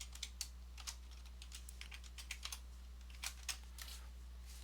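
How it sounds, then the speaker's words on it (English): Password keys tapped on a computer keyboard, a quick irregular run of light clicks close by over a steady low hum, with no voices. "And let me put in my password."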